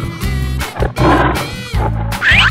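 A cartoon-style lion roar: loud, close, growling bursts repeated in several surges, with a brief higher snarl near the end.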